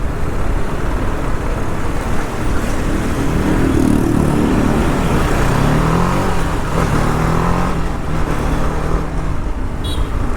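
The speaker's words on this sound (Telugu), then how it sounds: "అసలు ఘోరంగా ట్రాఫిక్ జామ్ గైస్" A heavy road traffic jam near Calangute Beach in Goa rumbles loudly and continuously, with engines idling and revving close by and the broad wash of wind and road noise.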